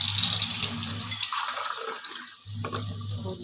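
Water runs steadily into a pan holding a powdered herb mix for a hair remedy, a close, continuous splashing pour with a brief lull in the middle before the flow resumes.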